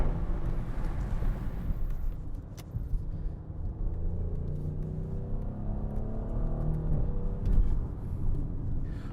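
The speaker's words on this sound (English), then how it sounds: "A lot of turbo noise." A 2024 Audi S7's turbocharged engine drones as the car drives through a tunnel, a steady low rumble with a faint whoosh of turbo noise, rising slightly toward the end.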